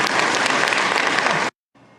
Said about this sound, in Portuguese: e foi aplaudido